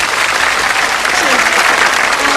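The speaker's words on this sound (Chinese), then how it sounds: "我们再次用掌声来欢迎一下" An audience at a concert of classic Chinese pop songs applauds, a steady, close wash of clapping hands that holds at full strength from start to finish.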